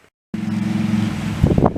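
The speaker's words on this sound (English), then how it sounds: "excuse the fan and Harley going by" A low Harley-Davidson motorcycle engine rumble runs steadily under electric fan wind noise, rising slightly toward the end as the motorcycle passes nearby.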